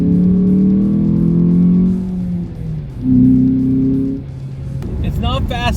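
A small, fun car engine drones steadily in second gear, rising in pitch, then briefly dipping and rising again before a voice speaks over it.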